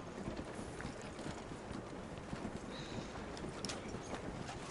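Steady clip-clop of horse hooves trotting along at moderate volume in Red Dead Redemption 2, with faint rattling and creaking in the background.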